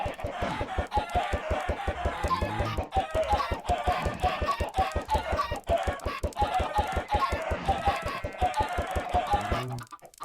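Chickens in the video game Minecraft clucking continuously and close, dense overlapping bird calls with a few crow-like squawks, filling the whole stretch without speech.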